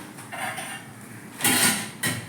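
A knife slicing onion on a board in a home kitchen, a few crisp cutting strokes with brief louder knocks of the blade against the board, close and clear with no talking.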